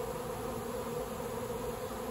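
Dense, steady drone of a honeybee swarm of more than 70,000 bees, heard from right among them with a continuous close hum and no talking.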